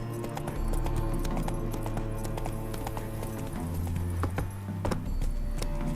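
Roach the horse trots in The Witcher 3, hooves clip-clopping in a steady, close rhythm over a continuous low musical drone, with sharp hoof strikes standing out throughout.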